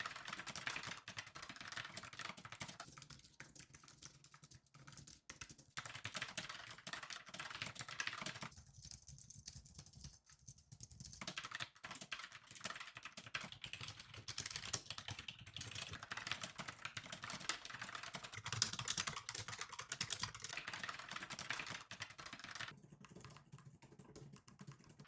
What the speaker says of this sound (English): Is this keyboard loud?